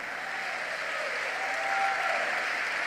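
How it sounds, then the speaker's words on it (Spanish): Church congregation applauding together, a steady broad wash of clapping that holds at even loudness for the whole stretch with no break. "Un aplauso grandote al Señor ahí."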